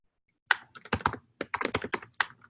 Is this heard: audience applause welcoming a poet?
no